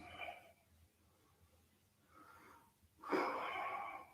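A slow yoga exhale, soft airy breath flowing out steadily and then swelling into a stronger, louder rush of air near the end, close and alone.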